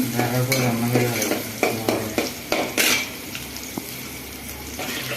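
Onions fry in a pan for pigeon curry, a continuous sizzle broken by repeated scraping strokes of a spoon stirring against the metal, close and fairly loud.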